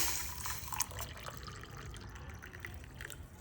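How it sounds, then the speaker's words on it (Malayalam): Hot water poured into a glass, a thin trickling splash that is loudest at the start and then settles into a quieter steady pour. "നമുക്ക് ചൂടുവെള്ളം ഒഴിക്കാം കേട്ടോ"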